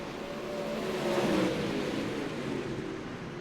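Pro late model race cars roar through a turn three wide among lapped traffic, a steady, dense engine drone that swells slightly in the middle and stays loud throughout.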